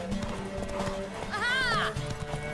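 Steady clip-clop of a mare's hooves in The Witcher 3: Wild Hunt with a brief whinny partway through, over a busy background of voices and game ambience.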